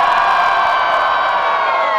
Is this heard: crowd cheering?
yes